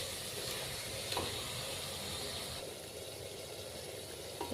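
Mixed vegetables with spices sizzle steadily in a hot pan while being stirred, a dense continuous hiss with a few faint scraping clicks, close and alone without talk.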